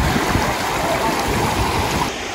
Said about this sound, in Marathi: हेच हेच पाणी खाली फॉल्स म्हणून पडतं